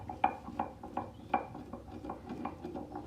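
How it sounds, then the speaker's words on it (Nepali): Spices are ground by hand on a silauto grinding stone, giving a run of quick scraping and clicking strokes in a steady rhythm, close and fairly quiet. "त्यही भएर मैले चाहिँ सिलौटोमा पिस्दै छु"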